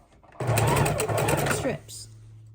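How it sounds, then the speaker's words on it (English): A sewing machine stitches strips of quilting fabric in one loud, fast, steady whir that runs for over a second and then stops abruptly, with a softer hum trailing after. "we're going to put that in the sewing machine"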